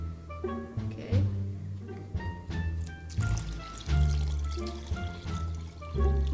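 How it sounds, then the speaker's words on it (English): Liquid pours into a container in a home kitchen in short gurgling bursts, its pitch rising in glugs as it fills, close and fairly loud. "I want to pour some in."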